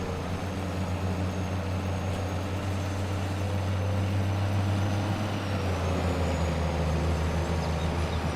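Loud truck engine in a farming video game, a steady heavy drone and rumble holding close and constant throughout, with no talk over it.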